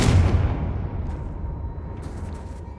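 A Confringo fire spell blast in Hogwarts Legacy, a loud low boom at the start that decays into a rumbling fiery tail lasting a few seconds, with faint crackles later.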